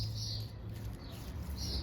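Small birds chirp in a flower garden with jasmine blooming, a steady soft bed of high twittering calls at moderate distance with no talking over them.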